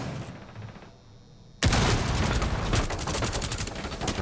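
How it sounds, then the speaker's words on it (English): Rapid gunfire in Rainbow Six Siege, a sudden dense burst of automatic shots that starts after a short quiet lull and keeps hammering loudly for the rest of the moment, with no talk over it. "I think he's trying to shoot the zombie there"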